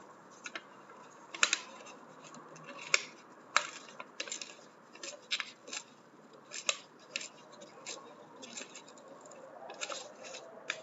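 Paper is torn and folded for origami, with sharp crisp rips and crinkles repeating irregularly over a quiet room, close and fairly faint, with no talking.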